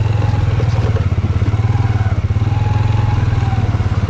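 A motorcycle engine idles and putters steadily in a mountain valley in the Skardu area, a loud, close, even throb with a regular pulsing beat and no speech.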